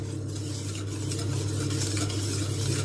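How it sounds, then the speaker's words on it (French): Gelatin being stirred into melted white chocolate, a steady, close scraping and swishing of a utensil through the thick mixture, continuous and fairly loud with a low hum beneath. "je viens ajouter ma gélatine tout en mélangeant"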